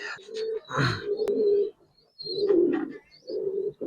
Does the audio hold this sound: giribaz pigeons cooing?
yes